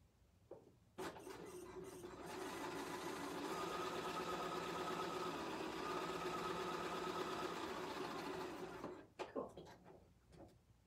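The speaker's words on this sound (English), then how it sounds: "I'm just going to do a regular old straight stitch." A BERNINA sewing machine runs a straight stitch at a steady, continuous whir for about eight seconds, sitting close and fairly quiet, with a few small clicks before and after the run.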